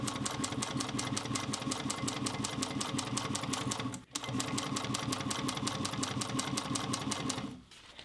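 A Juki sewing machine stitches the seams of a fabric bucket bag, running steadily with a fast, even mechanical chatter, pausing briefly halfway and stopping near the end; no talking.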